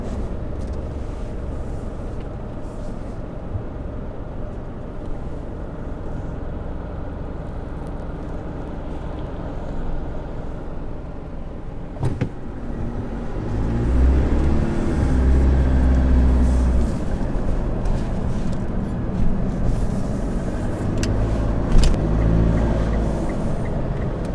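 Car traffic moves along an Australian road with roundabouts, with steady engine rumble and passing vehicles at moderate distance that swell into heavier low-pitched rumbling midway through.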